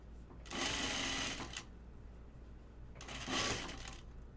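Two separate bursts of a sewing machine sewing a seam on a button-up shirt, each running about a second, with quiet room noise between them.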